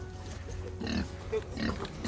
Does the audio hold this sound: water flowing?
no